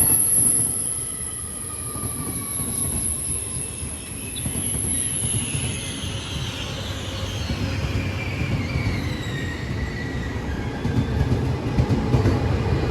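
A Trenitalia regional train from Treviso Centrale rumbles steadily close by as it arrives at Venezia Mestre station, with a high metallic wheel squeal riding over the low rolling noise of the cars throughout.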